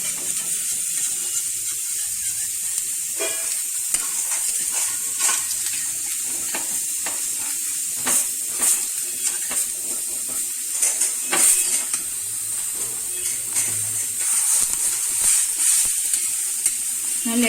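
Gujarati handvo, a savory batter cake, sizzling steadily in a pan after being flipped, a constant bright hiss with occasional light clicks and scrapes, close up and with no voices.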